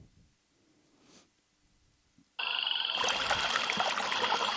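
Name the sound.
rainforest ambience sound effect with frogs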